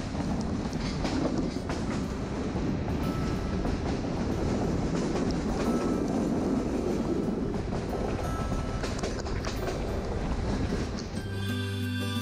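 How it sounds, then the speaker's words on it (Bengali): Jayantika Express passenger train running through hilly forest, a loud continuous rumble with rhythmic clickety-clack of wheels on rails throughout, close and steady. "এখন ট্রেন চলছে পাহাড়ি জঙ্গলের মাঝখান দিয়ে।"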